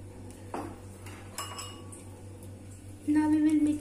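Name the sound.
stirring ingredients in a pan with a spoon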